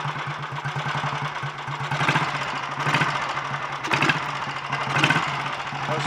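Rebuilt Royal Enfield Bullet 350 G2 single-cylinder motorcycle engine running with a steady thumping beat, revs swelling and dropping several times, loud and close.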